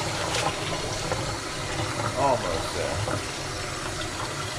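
Tap water runs steadily while a tie-dye shirt is rinsed in a sink, a continuous close splashing gush with brief surges, as a person speaks a few words over it.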